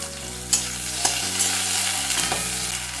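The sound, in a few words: frying eggplant pieces in oil with turmeric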